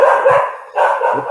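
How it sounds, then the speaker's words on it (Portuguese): Dogs barking, two loud, close, slightly drawn-out barks about half a second apart, with no talking. "a cachorrada aí tá ativa"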